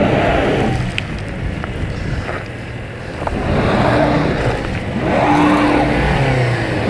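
Honda CR-V Hybrid AWD straining on an off-road test hill, its motor droning steadily while wheels spin for traction, with a rising surge of revving midway and no talk over it.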